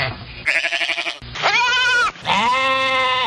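Several people imitate sheep in quick succession: a wavering, pulsing bleat followed by two longer, drawn-out bleats, loud and close, sounding convincingly animal-like.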